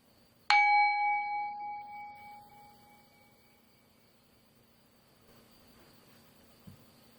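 A single bright bell strike rings out clearly during a tarot card reading, its tones sustaining and slowly fading over several seconds into near silence.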